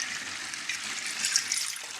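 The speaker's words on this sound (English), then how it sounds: "And I put the water in last because as it falls in, it'll basically mix everything up." Warm distilled water pouring into a homemade peppermint bug-repellent spray mixture, a steady, hissing splash lasting the whole stretch with no voices.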